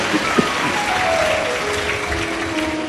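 Loud, dense applause from the crowd at a live Shiv Mahapuran katha gathering, a steady wash of clapping that holds throughout with no talk over it.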